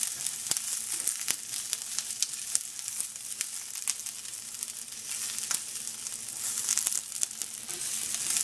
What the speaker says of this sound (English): you're going to add your snap peas. Saute this a little bit